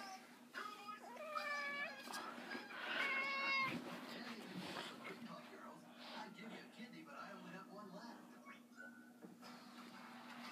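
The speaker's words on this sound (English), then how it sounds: "Here's the cat." A fluffy house cat meows several times in quick succession early on, fairly quiet and close, over a low steady household hum, then the room goes calmer.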